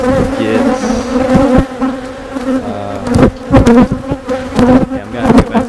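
Honeybees buzzing loudly and continuously around an open hive during an inspection and colony split, a close, dense drone with some louder passes and clunks near the end.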